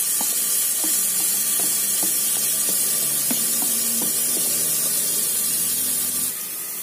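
Tomato, onion and garlic sauté in hot oil in a pressure cooker, giving a loud, steady sizzling hiss with faint scattered ticks and stirring clinks, easing slightly at the end.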